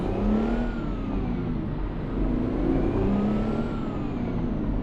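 Steady R600 truck engine drone in American Truck Simulator with smooth revving, rising and falling in pitch, loud and continuous throughout.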